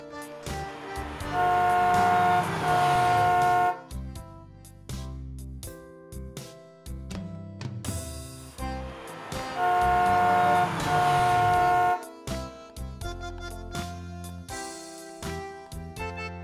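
Two loud, sustained bursts of horn tooting from the Lightning McQueen race car ring out several seconds apart, each standing out over upbeat children's music.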